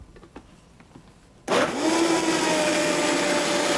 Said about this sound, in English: And now we're just gonna blend it up.